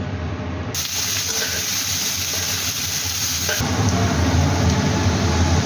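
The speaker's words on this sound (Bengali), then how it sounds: "এইগুলো প্রথমে ভেজে নেব" Chopped carrots fry in a little oil in a wok, a loud, steady sizzle that holds throughout and grows slightly fuller near the end.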